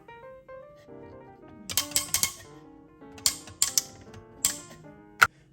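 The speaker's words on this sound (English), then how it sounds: "I'm going to turn my machine to the fine setting" An espresso grinder dial is turned toward a fine setting, producing clusters of sharp mechanical clicks and ratcheting ticks in short bursts, with a quieter tonal hum beneath and no talking.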